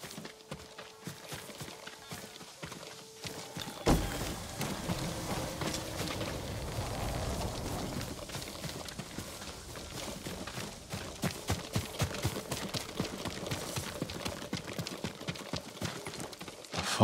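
Hooves of a farm horse at the stables in Ghost of Tsushima clop in a steady walking rhythm on hard ground. Crisp, fairly close hoofbeats continue throughout, with a brief louder thump partway in and a soft background ambience.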